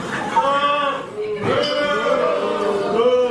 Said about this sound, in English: I don't know if they're booing me or booing him.